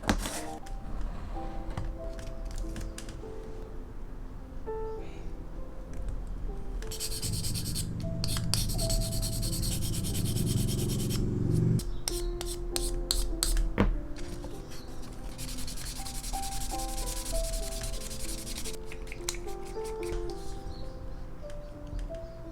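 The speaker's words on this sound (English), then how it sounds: "I will be using gun primer sandpaper and display sanding board" Scratchy rubbing strokes of sandpaper on a metal sanding board smoothing a plastic Gunpla model come in uneven bursts, with a low buzzing stretch partway through and a few sharp clicks.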